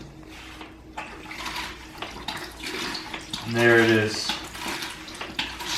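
Dirty water drains out of a 1973 Camaro fuel tank, splashing and gurgling steadily, with a louder gushing surge midway, while someone speaks briefly over it.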